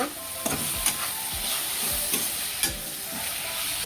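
Chicken with Kashmiri red chili and turmeric stir-fried in a pan: a steady close sizzle with repeated scraping strokes of a spatula.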